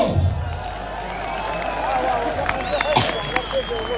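Crowd at a political convention claps and cheers in a burst across the hall while a speaker's amplified voice carries over it, moderately loud and reverberant.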